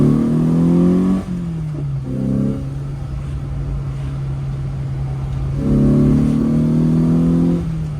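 A carburetted Lotus Elan engine, running rich and bogging in the mid-range, revs up in two rising bursts separated by a steady idle-like drone, loud and close with no talk.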